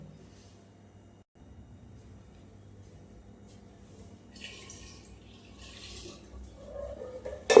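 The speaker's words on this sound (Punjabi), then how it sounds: "ਥੋੜਾ ਜਿਹਾ ਪਾਣੀ ਪਾ ਦਿੰਦੇ ਹਾਂ ਹੋਰ" Water pours into a cooking pot with a faint, thin trickle that swells slightly toward the end. There are quiet kitchen handling noises throughout, and no one speaks.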